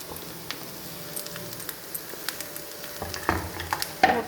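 A blood stir-fry with grated coconut and coriander is stirred in a pan: a soft, steady sizzle with scattered taps and scrapes of a spoon that grow louder toward the end, with no voices.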